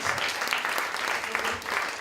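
Comedy club audience at a pub comedy night applauding steadily, a dense, even wash of clapping from a crowd throughout with no break.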